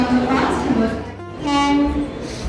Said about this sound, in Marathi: इथे आपली वंदे भारत ट्रेन आली आहे